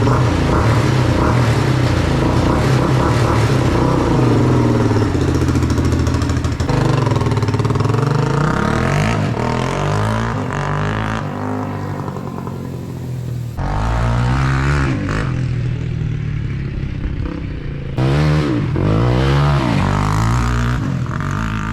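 A 2005 Polaris Predator ATV with a freshly installed, roughly tuned carburetor rides on a test run, its engine loud and close, revving up and down through repeated throttle swells with brief dips between.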